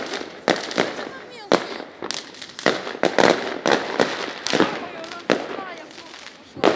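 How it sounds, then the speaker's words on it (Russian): Sharp firecracker bangs from small handheld firecrackers burst irregularly during New Year fireworks in Almaty, some close and loud, others smaller pops, with a voice speaking between the blasts. "Не надо в руках бомбочки взрывать."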